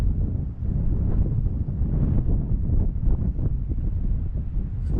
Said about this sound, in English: that wind is freezing cold